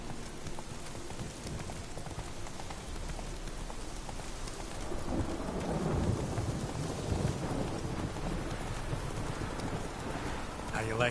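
Roach, the horse in The Witcher game, trots with muffled hoofbeats under steady rain and rolling thunder, while someone talks over the scene.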